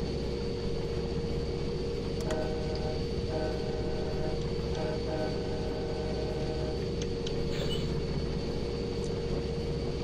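An NJ Transit diesel locomotive in Train Simulator 2016 gives a constant heavy engine drone with a steady high whine, and faint intermittent tonal beeps sound over the rumble.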